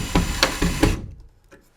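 A toggle bolt is tightened to pull a faux-wood beam rail up against a ceiling: four or five sharp, evenly spaced clicks in under a second, then near silence.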